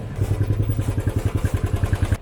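A motorcycle stands idling on a street in Rome, its engine putting out a steady, rapid pulsing throb at close range with no other sound over it.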